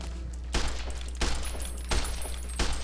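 Vermin rifle shots in Fallout: New Vegas, four evenly spaced sharp cracks about two-thirds of a second apart, each with a short noisy tail over a steady low hum.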